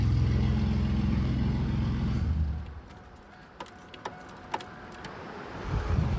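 A loud 2000 Chevy Camaro exhaust with no muffler rumbles deep and steady at close range for about two seconds, then cuts off, leaving quiet with a few small metallic clicks and clinks.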